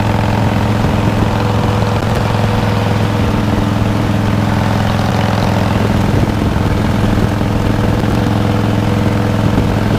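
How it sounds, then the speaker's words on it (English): A Harley Davidson motorcycle rides down the road on worn, partly flat tires, its engine a loud, steady, close drone with constant wind and road noise and no talking. "I'm out on Momma Badger's bike today."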